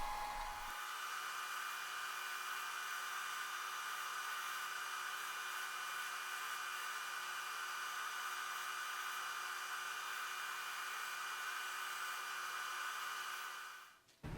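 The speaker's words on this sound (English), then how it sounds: "I'm just gonna put the chamfers on with my disc sander instead" A disc sander runs steadily for about fourteen seconds, putting chamfers on a leopard wood lure, with a constant close whine and hum and no pauses until it cuts off at the end.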